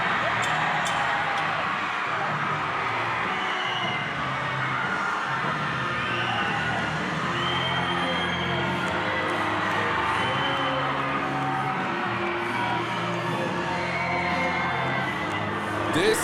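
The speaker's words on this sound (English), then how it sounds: "This might be the most electric UWO crowd I have ever heard" A wrestling crowd at the UWO Bridge Creek Brawl cheers and shouts in a sustained, dense roar after a match win, with whoops and scattered yells mixed into a steady wall of noise.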